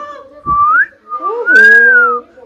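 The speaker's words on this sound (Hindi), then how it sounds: "एक बार उनको सीटी मार, देखो" A person whistles at close range in two clear, loud, sustained tones, the second rising and held longer, with a brief pause between them.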